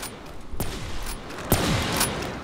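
Sniper rifle shots in the Black Ops 3 Zombies map The Giant: three sharp, loud single cracks spaced about a second apart, each followed by a short echoing tail over game ambience.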